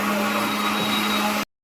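A kitchen mixer grinder whirs loudly and close with a steady humming motor whine, then cuts off abruptly into silence.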